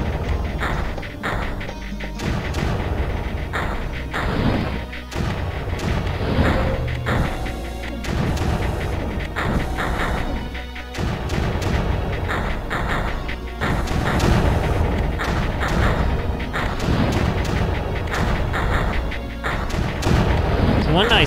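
Units fire in the strategy game Creeper World, a steady run of booms, thuds and crashing impacts stacked densely over the full stretch, loud and continuous with overlapping blasts and underlying talk.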